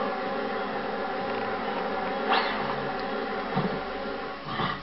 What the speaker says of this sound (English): Run, the bees are coming!